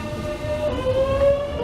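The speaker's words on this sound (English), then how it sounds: "And there goes our train." A Class 465 third-rail electric passenger train departs a London station, rumbling steadily nearby with a faint, sustained tonal whine rising over the low roar of the carriages.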